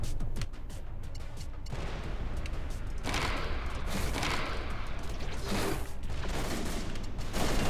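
Weapons fire at a carrier in a space combat game, giving rapid bursts of gunfire and booming impacts over a steady dense roar, fairly quiet overall with no voices.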